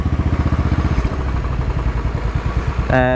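A motorcycle engine thumps close by in a rapid, uneven rhythm that fades as it passes, followed by a brief tonal sound at the very end, with no talk.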